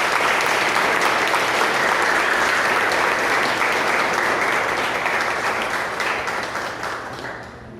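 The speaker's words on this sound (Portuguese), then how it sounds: "Vamos dar um aplauso para Jesus bem forte." Sustained, dense applause from a church congregation at a missionary conference, loud and steady throughout before gradually thinning toward the end.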